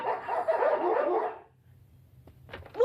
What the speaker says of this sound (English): Such a neat dog.